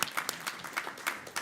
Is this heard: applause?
yes